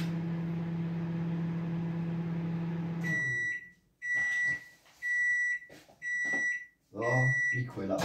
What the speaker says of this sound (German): Mikrowelle ist gleich fertig.